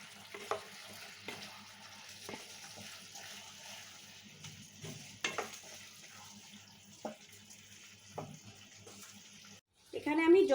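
Pre-fried chicken pieces are tipped into chilli sauce in a pan and stirred, giving a faint sizzle broken by soft, irregular scrapes and knocks, with a short louder burst at the end.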